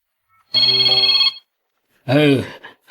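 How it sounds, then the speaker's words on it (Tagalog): A cellphone rings with a bright, steady electronic tone lasting just under a second, then a voice speaks. "itay pa'y nga agri-ring ta cellphone mo"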